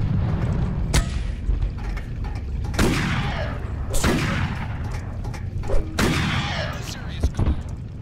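Gunfire from an enemy rifle in the video game Carnivores Cityscape, with several loud, sharp shots spaced a second or so apart, each followed by a decaying echo over a steady rumbling game background.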